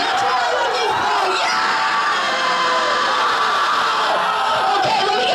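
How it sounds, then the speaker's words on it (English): A crowd of helpers screams, whoops and cheers loudly and continuously at a show, many overlapping voices forming a dense, unbroken wall of noise close behind. "can you guys scream more? I think we need more screaming behind me."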